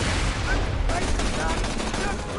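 Dense, continuous assault rifle fire from the video game Borderlands 2 rattles loud and close, a rapid unbroken burst filling the whole moment.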